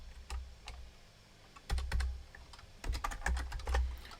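Typing on a computer keyboard during a live Perl programming session: bursts of quick, close key clicks with brief pauses between runs, no voices.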